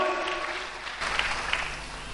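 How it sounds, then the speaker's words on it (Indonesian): Church congregation clapping in a reverberant hall, a brief wash of applause that swells slightly midway and stays moderately loud. "Tepuk tangan lebih meriah lagi buat Dia."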